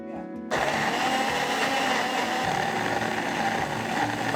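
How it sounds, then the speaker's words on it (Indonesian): An electric blender starts abruptly and whirs at full speed, grinding garlic, shallots, chili, bird's eye chili, candlenut, kencur, shrimp paste and turmeric with oil into a paste, a loud, steady close-up motor roar. "Di sini aku akan haluskan menggunakan blender."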